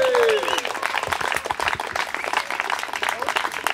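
Crowd applause at an outdoor rally in a Berlin park, dense clapping with some cheering, starting just after a voice on the microphone and continuing steadily to the end.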